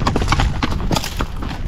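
A ranch horse bought at auction walks on the side of a hill, its hooves making a close, steady clip-clop of rapid, uneven strikes.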